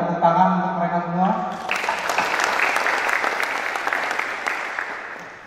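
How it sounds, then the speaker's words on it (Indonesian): An audience applauds at the inauguration of a city Purna Paskibraka Indonesia board in Banjar, first under a host's amplified voice, then a steady, full clapping that carries on to the end. "Tepuk tangan untuk mereka semua"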